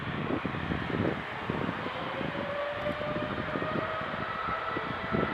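An airliner in Europa Park livery arrives at Manchester Airport, its jet engine roar steady and moderately distant, with a rising whine and gusty rumbling pulses throughout, no voices over it.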